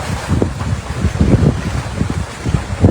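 Waves wash against the seashore in a steady low rumble, with strong wind buffeting the microphone and no voices present.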